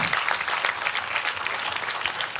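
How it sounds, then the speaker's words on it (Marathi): An audience at a women's gathering breaks into steady, dense clapping that holds evenly throughout, heard from within the hall. "तेव्हा आपल्या अश्विनी मॅडमसाठी एकदा जोरदार टाळ्या झाल्या पाहिजे"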